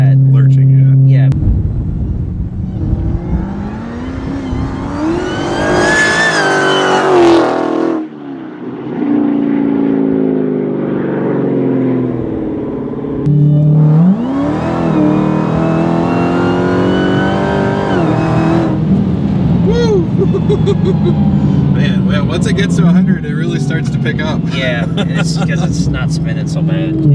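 Tuned 1048 WHP Dodge SRT Demon accelerating hard in a street pull, loud engine roar rising through gears with brief drops between shifts, people talking over it.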